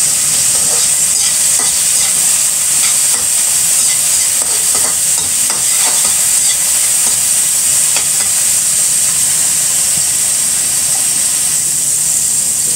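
Hotdogs fry loudly in a pan with a constant, dense sizzling hiss and occasional soft scrapes of a utensil, close up and with no speech over it.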